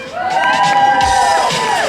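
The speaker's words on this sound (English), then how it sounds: "Ladies and gentlemen, give them a big round of applause." Crowd at a Blackpool Pleasure Beach show cheering with high sustained shouts and whoops, children's voices prominent, loud and close, with clapping blended into the noise.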